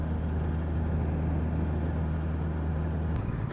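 A Honda CBR650R sportbike's engine running at a steady, loud, throaty idle or cruise for several seconds, a constant low drone that cuts off abruptly near the end.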